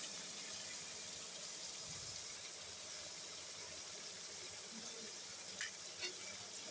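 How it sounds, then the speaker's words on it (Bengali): Eggs and meat sizzling together in a pan for fried rice, a steady, even hiss with a few light scrapes of stirring near the end, faint and unbroken. "এখন আমি একসাথে এগুলা ভেজে নিব।"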